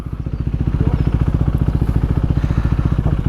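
A Husqvarna Svartpilen 401 with a single-cylinder 390cc engine running close by, a loud, throaty, rapid pulsing thump at an even beat, steady throughout with no talk over it.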